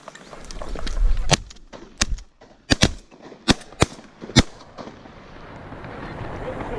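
Shotgun blasts crack out during a late-season goose hunt, about seven sharp reports in an uneven volley, some in quick pairs, over a quiet outdoor background with faint rustling.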